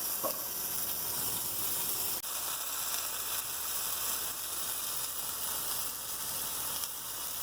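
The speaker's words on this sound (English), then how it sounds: "And now the onions. And the garlic." Onions and garlic fry in a pan with a loud, steady, even sizzle throughout, broken only by a single brief click partway through.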